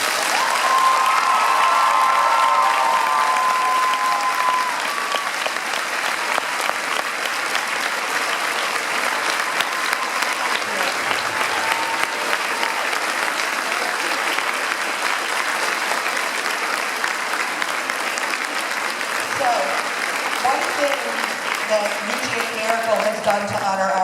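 Sustained, loud applause with cheering from a large crowd, dense and continuous throughout, with a brief whistle early and voices mixed in near the end.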